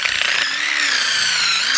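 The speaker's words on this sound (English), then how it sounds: "So we're going to drill 2 inches into the tree." A power drill boring a tap hole two inches into a maple tree, a loud, steady high-pitched whine held close up for the whole moment, with no voices.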